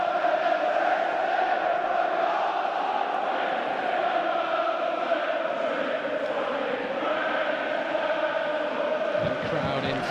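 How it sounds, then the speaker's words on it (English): A football crowd at an FA Cup quarter-final between Preston North End and Aston Villa keeps up a steady sustained roar of singing and cheering, a broad continuous wall of distant voices. "The crowd in fine voice,"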